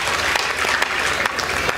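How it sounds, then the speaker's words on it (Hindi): Loud applause from a kavi sammelan audience in a hall, a dense steady wash of clapping lasting throughout with a few sharper claps standing out. "एक बार जोरदार तालियां बजाकर।"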